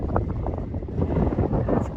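Strong wind blasting a boat at anchorage, a loud, continuous roar of gusts buffeting the microphone with a low rumble, no talking.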